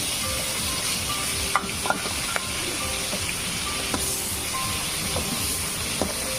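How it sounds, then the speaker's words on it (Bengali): Puti fish frying in mustard oil in a kadai, giving a continuous steady sizzle and hiss with occasional faint clinks of a utensil. "কড়াই ভিতরে সরষের তেল দিয়ে দিছি, দিয়ে মাছটি দিয়ে দিতেছি।"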